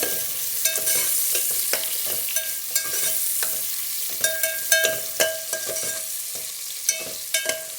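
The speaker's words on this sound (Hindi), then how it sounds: "और टमाटरों को हम थोड़ा सा सॉफ्ट कर लेंगे।" Tomatoes with ginger and garlic soften in a pan, giving a low, steady sizzle broken by frequent sharp clicks and scrapes of a spoon stirring against the pan. No one speaks.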